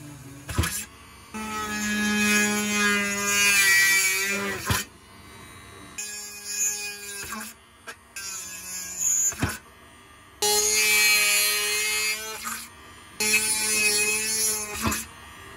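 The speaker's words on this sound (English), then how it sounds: "Next, I'll drill a hole for soldering from the inside." A small drill bores a hole from the inside of a model railroad part, ready for soldering. It whines in several separate bursts of a few seconds each, starting and stopping with short silent gaps between them.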